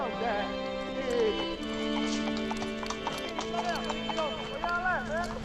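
A horse being led through a gate clip-clops with a steady run of hoof beats, close and prominent, while people talk over it and a whinny-like call rises in the mix.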